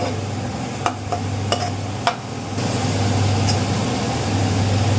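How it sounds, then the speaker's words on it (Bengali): Ginger-garlic paste sautéing in a pan for a taro curry, with a steady sizzle and a few sharp spoon clicks against the pan, under a constant low hum, and no talking. "এক চামচ আদা রসুন বাটা এটা দিয়ে ভালো করে কষাই নেব"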